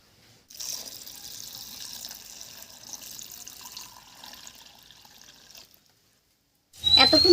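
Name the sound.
pouring water into lentils in a pot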